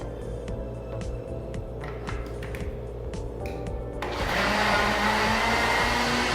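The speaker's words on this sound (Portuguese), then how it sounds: "Tudo no liquidificador." Clattering and scraping lead into a blender mixing a lemon juice blend, whirring loudly and steadily at close range for the last couple of seconds.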